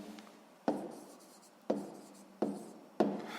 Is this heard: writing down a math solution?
yes